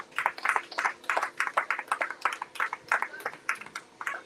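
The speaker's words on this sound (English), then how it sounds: "let's give her a great round of applause" A crowd at a leadership event claps in a steady round of applause, the quick overlapping hand claps moderately loud and sustained throughout, with a few brighter individual claps standing out.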